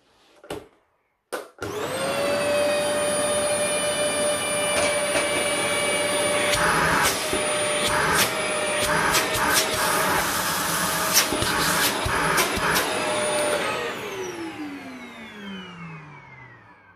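A Vax Power Compact vacuum cleaner is switched on after a couple of clicks and runs with a loud, steady motor whine and airflow roar for about twelve seconds, then slowly winds down in pitch as it stops.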